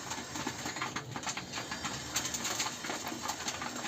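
Pigeons coo softly and repeatedly at close range against a steady background hiss, with no voices present.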